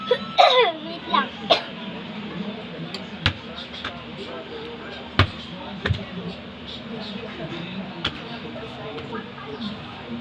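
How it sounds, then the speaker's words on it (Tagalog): A person coughs a few times in short bursts at the start, followed by scattered sharp knocks and handling noises, with some talk in the background. "Sorry, umubo ako."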